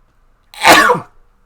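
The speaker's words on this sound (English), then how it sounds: "that sneeze took forever" A single sharp sneeze, close and loud, bursting out suddenly and fading within half a second.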